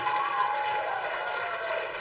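Applause from a gathered audience at a university anniversary celebration rolls on steadily, mixed with tonal music or hum and possible crowd voices underneath.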